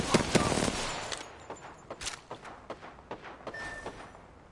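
Video game gunfire: a rapid, close burst of automatic shots opens, then single cracks and short volleys follow at uneven intervals and fade into quieter background noise.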